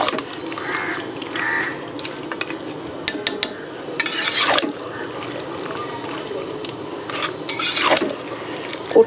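A fish-head and vegetable chorchori is stirred in a wok, giving scraping, sizzling bursts over a steady background hiss, with crows cawing nearby.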